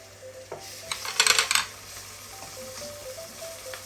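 Ginger and garlic paste hitting hot oil in a pan of lightly browned onions for a prawn and ash gourd curry, giving a burst of close sizzling and stirring clatter that settles into a low fry.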